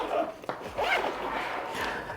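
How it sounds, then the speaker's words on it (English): A zipper on a Lone Wolf tech backpack is pulled closed in a few short rasping strokes, close and fairly loud, with no talking. "And then we'll just zip this back up."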